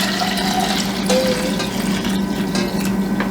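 Water running steadily into water bottles at home, a continuous close rushing and splashing fill with a faint rising gurgle, no talking over it.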